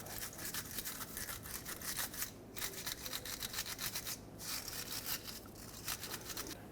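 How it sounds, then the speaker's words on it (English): Close, rapid back-and-forth scrubbing of a wire brush cleaning around the rear ABS sensor on a 2000-2005 Ford Excursion, quick rhythmic bristle rasps with brief pauses between strokes. "I'm going to wire brush this area a little bit before I take this out so that I have almost no debris around here."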